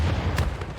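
A cannon fires in the Civilization 6 video game, a deep, heavy boom rolling on for under a second with a broad rumbling tail and no voices.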